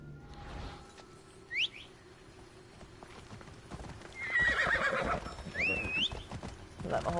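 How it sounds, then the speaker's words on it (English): A horse gallops in Assassin's Creed Odyssey with rhythmic clip-clop hooves that grow louder midway, while whinnies and birdlike whistles ring out over the hoofbeats. "Let my horsey get me there."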